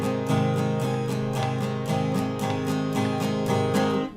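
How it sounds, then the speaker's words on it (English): An acoustic guitar plays a song intro with a straight eighth-note down-up strumming pattern, strummed evenly and steadily, near and clear, without any talking. "the strumming pattern we're going to use for this is just a straight up eighth note strumming pattern."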